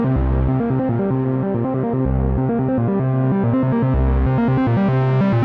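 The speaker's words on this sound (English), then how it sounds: "if I go with something between a sine wave and a triangle wave, right, something like this." Synth tone from Bitwig's Grid with a waveform between sine and triangle, loud and steady, stepping through a repeating sequence of pitches with sustained harmonics and a pulsing low note about every two seconds.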